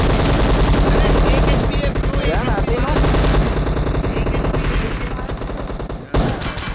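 Rapid automatic gunfire from a video game rattles loud and close almost without pause, in sustained bursts that ease off near the end. A voice can be heard faintly beneath the shots.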